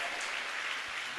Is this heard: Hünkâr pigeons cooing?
no